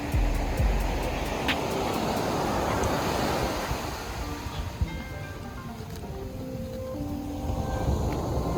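Ocean waves wash steadily onto the beach at Malibu, a continuous loud roar of surf with wind buffeting the microphone and faint voices in the background.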